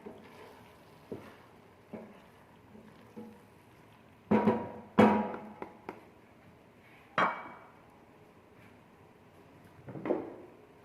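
A spoon stirs and scrapes through thick daal mash in a metal pot, giving soft periodic scrapes and a few louder clinks against the pot's side, quiet and close with no talking.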